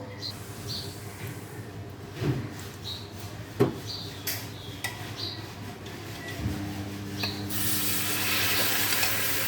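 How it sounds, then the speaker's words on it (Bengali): Milk poured into hot caramel in a home kitchen while making mishti doi, with scattered clinks and stirring before a sudden loud hiss of sizzling steam near the end. "এবার আমি এর মধ্যে একটু দুধ ঢেলে দেবো।"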